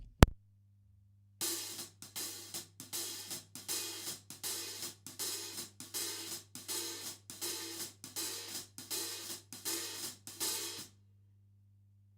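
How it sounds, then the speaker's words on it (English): A steady hi-hat jazz ride groove plays alone: crisp closed ticks in a swinging pattern, with a brighter open hiss on each backbeat, repeating evenly for about ten seconds. "which is played here on the hi-hat, but with addition of the open stroke on the backbeat"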